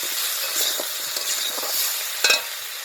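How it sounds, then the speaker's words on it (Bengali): Masala spiced with chili powder, turmeric and salt fries in a pan, a steady sizzle broken by soft scraping stirs and one sharper clatter near the end, with no talking. "দিয়ে আমি মশলাটাকে ভালো করে কষিয়ে নেব"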